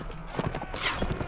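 Horse hooves galloping in the medieval battle game Mount and Blade: Warband, a quick clip-clop of hoofbeats mixed with battle noise and a rushing swell, close and loud.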